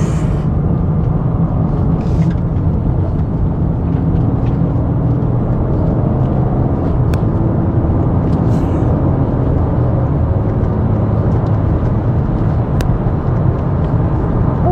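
BMW M4 Competition Coupé accelerating hard in sport mode on a quiet road, a steady loud engine drone with whirring road and wind noise from inside the cabin. It stays even throughout with no talk.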